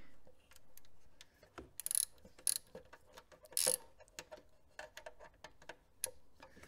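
A torque wrench tightens the throttle body bolts on an Audi A2 1.4 16v AUA engine, giving a run of soft ratcheting ticks with a few sharper, louder clicks, close by and with no talking.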